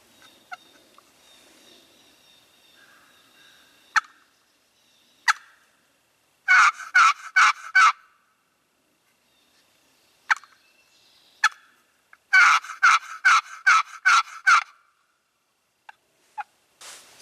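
Wild turkey gobbles and yelp calls during a spring turkey hunt, heard as bursts of rapid rattling gobbles and sharp single yelps spaced apart, fairly near and loud against a quiet outdoor backdrop.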